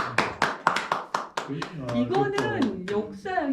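Several sharp claps ring out in quick succession in an indoor talk-show setting, then speech and laughter take over and cover the rest.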